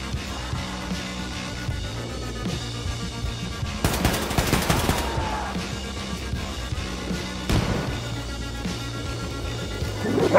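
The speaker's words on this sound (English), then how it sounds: "Blazkowicz, hop on the nuclear cannon and fire it to maximum distance." Nuclear cannon in Wolfenstein 2 fires with sudden broadband bursts, a big blast near four seconds and another around seven and a half, over rumbling game music and machine-like rattling.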